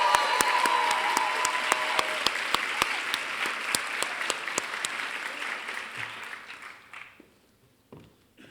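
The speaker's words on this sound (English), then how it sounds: "One more round of applause for the class as a whole." At a Global Liberal Studies baccalaureate ceremony, the audience gives the class of 2023 a round of applause. Steady clapping with a few sharp, close claps up front fades out over several seconds, leaving scattered claps.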